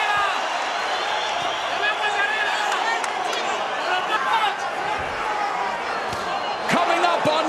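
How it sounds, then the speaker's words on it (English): A packed boxing arena crowd roars throughout the Isaac Cruz vs. Angel Fierro fight, a dense, steady wall of cheering and shouting punctuated by a few sharp thumps and louder bursts near the end. "Let's listen to this crowd."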